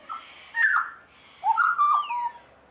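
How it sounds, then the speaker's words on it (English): A small bird, likely a butcherbird, calls in two bursts of loud, rising and falling whistled notes with a short pause between them, close by and with no talking. "Lovely little bird."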